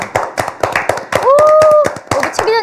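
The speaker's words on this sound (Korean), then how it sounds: "박수 한번 보내드려요" A handful of sharp, irregular hand claps from a few people in a talk-show studio, close and crisp, with voices talking and humming over them.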